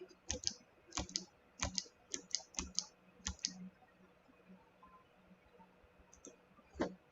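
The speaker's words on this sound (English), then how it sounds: "I guess I was typing too fast" Sharp clicks of typing on a computer keyboard, keys struck in irregular quick clusters with pauses between, close by and fairly quiet.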